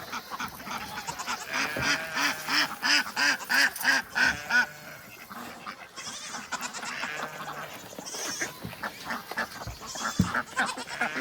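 A flock of ducks quacks loudly and continuously nearby, honking calls overlapping in rapid bursts, with other bird calls mixed in.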